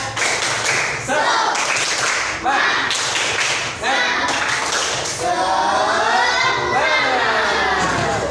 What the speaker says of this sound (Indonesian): kita tepuk semangat bersama-sama. Ya, tepuk semangat.